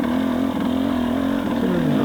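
Motorcycle engine during an off-road race, giving a short rev near the rider's position, a steady mid-pitched engine drone that holds loud and close throughout, then dips slightly at the end.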